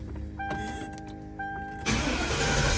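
A Mercury Marauder's engine is cranked and fires up, a steady mechanical whir that jumps abruptly into a louder, broadband running roar near the end, heard close and alone.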